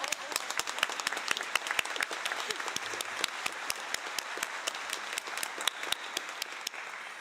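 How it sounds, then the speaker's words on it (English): Steady applause from a conference plenary session audience, many hands clapping in a dense, continuous patter that holds at an even level throughout. "I think we give a round of applause to him as well."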